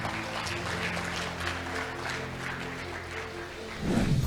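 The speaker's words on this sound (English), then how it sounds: "A round of applause for them, please." Audience at a black-tie dinner applauding the new executives, a steady wash of clapping over a low hum from the hall, swelling a little louder near the end.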